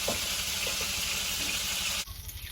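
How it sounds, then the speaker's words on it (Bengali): Hot fried chicken with ginger and garlic being stirred with a ladle in oil, giving a steady close sizzle with faint scraping. The sizzle drops abruptly to a softer hiss near the end. "চিকেনটা গরম আছে তাই হাতা দিয়ে মিশিয়ে নিচ্ছি"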